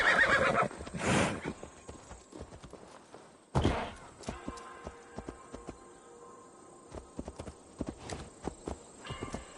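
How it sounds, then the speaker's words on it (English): In Assassin's Creed Valhalla, a horse lets out two loud, close whinnies, one at the start and another a few seconds later, while hooves clip-clop steadily in between and afterward. "Do I take a horse, maybe?"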